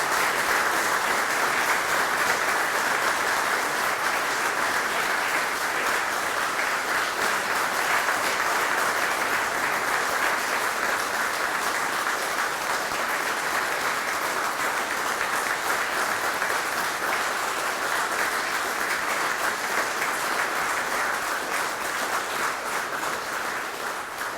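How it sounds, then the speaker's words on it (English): A large audience at a deed signing ceremony applauds steadily and loudly for the full stretch, a dense, continuous wash of clapping with no talk over it. "Please join me in rising with a special round of applause to honor these incredible Americans."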